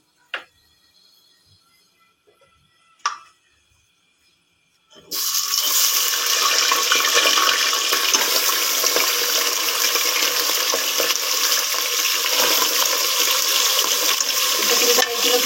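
Over a kilo of beef pieces drops into hot ghee in a pot, setting off a loud, continuous sizzling hiss that begins abruptly after a few quiet seconds with a couple of soft knocks and then holds steady without any talk.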